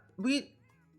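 A cat in a video game gives a single short, faint meow, with a quiet voice-like murmur around it.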